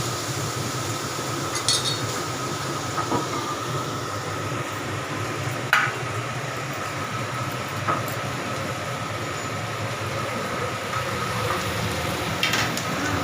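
Bottle gourd fries in a pan with turmeric, a steady close sizzle running continuously, with a few faint clicks of a utensil here and there.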